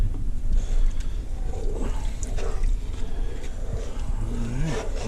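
About two and a half cups of water poured into roasted cauliflower soup in a pot, a steady close splashing and rushing sound with no talking.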